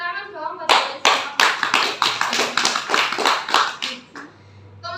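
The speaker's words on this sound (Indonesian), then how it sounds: "Tepuk tangan dong buat kalian semua." Students in a classroom clap together in a short, loud burst of close, sharp handclaps that quickly ends, with a voice speaking briefly just before and after.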